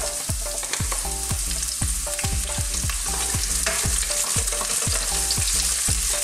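Red onion sizzling in a pan for a Filipino chicken noodle dish, with a steady loud fry hiss and rhythmic scraping stirs of a utensil against the pan.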